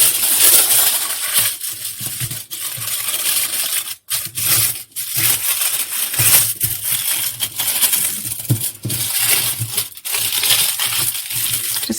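Kitchen foil being wrapped and pressed over a cardboard rectangle, loud continuous crinkling and crushing close up, with short pauses between bursts.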